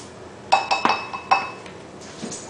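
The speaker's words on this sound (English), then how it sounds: "Then I'm just going to mix all of this up together just like this." Utensil clinks against a glass dish while sherry, white sugar and short rib sauce are stirred together, a few sharp close taps and chimes spaced unevenly over a quiet kitchen background.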